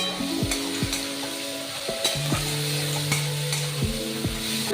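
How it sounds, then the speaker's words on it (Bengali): Chopped onions frying in hot mustard oil in a pan, a steady close sizzle with repeated stirring scrapes and clinks of the utensil throughout. "আমি রান্নাটা সরষের তেলে করছি, হয়ে গেছে। এবার পেঁয়াজ কুচিগুলো তেলের মধ্যে দিয়ে দেবো।"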